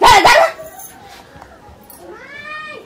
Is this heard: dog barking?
yes